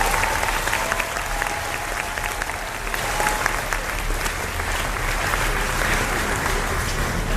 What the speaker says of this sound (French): Bah, on peut les applaudir.